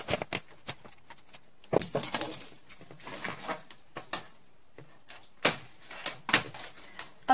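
Scissors cutting through chicken wire, sharp irregular metallic snips and clicks spaced by short pauses, close and moderately loud with no talk.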